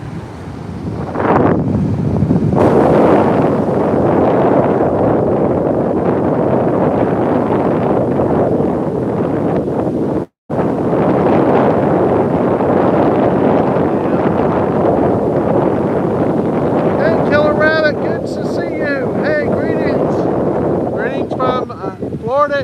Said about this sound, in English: We have a northeast wind at 17 gusting to 25.